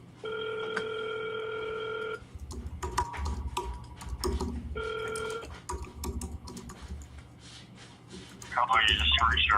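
A telephone rings twice in long electronic bursts, close and clear, with keyboard typing and clicks in between and a voice starting at the end.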